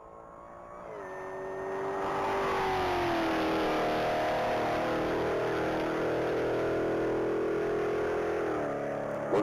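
A black 2021 Jeep Trackhawk with a Hennessy supercharged 1,000-horsepower engine runs at a top-speed mile event, its engine note climbing and then holding a loud, steady roar.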